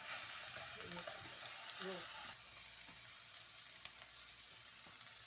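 Garlic ginger paste frying in a pan, a quiet, even sizzle, with a voice talking briefly over it near the start before the frying continues alone.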